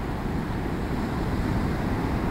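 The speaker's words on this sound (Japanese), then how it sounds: "豊橋の海です。" Sea waves wash continuously onto the Toyohashi coast while wind buffets the microphone in a steady, rough roar.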